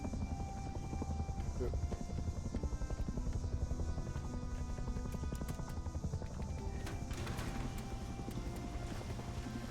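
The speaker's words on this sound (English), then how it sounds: "Oh no, that's the heli." A helicopter in a multiplayer survival video game on a PvE server, a steady droning rotor roar running throughout under game noise and clip-clop-like rhythmic thudding, with a person talking over it.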